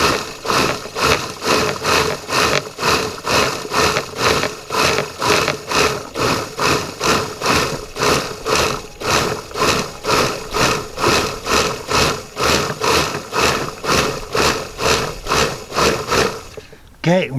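A blender pulses salsa verde ingredients in rapid rhythmic bursts, a loud whirring motor churning with a steady repeating throb and rattle for a long stretch before cutting off abruptly near the end.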